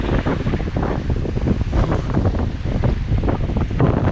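Strong, steady wind roars across the microphone over the constant wash and slap of choppy waves on the Kaniv Reservoir, loud and unbroken throughout.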